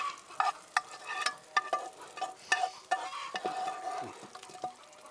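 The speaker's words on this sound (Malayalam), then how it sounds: "നമുക്കിതിൽ കുറച്ച് ബട്ടർ ഇട്ട് കൊടുക്കാം." Butter spread across a hot pan for toasting buns sizzles softly while a utensil scrapes and taps repeatedly, a close, quiet series of clicks over a faint frying hiss.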